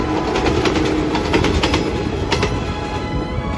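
JR 115 series train in Niigata running across the open Echigo plain, a steady loud rush of wheels and motor with rhythmic clickety-clack beats from the rail joints, heard outdoors.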